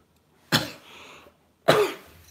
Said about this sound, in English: This cough can really do one.